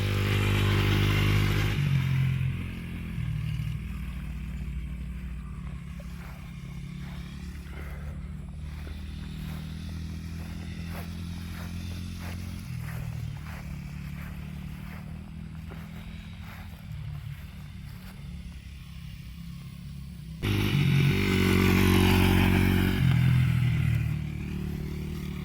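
A 1995 Honda XR80 dirt bike on street tires rides across grass. The engine drones at a distance, rising and falling as the rider shifts, and it grows louder and closer near the end.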